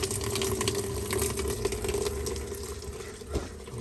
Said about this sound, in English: The water now going in there.